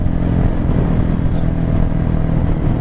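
A Hero Xpulse 200 motorcycle fitted with a modified exhaust rides along a rough road, its engine droning loud and close with a steady, gritty rumble throughout.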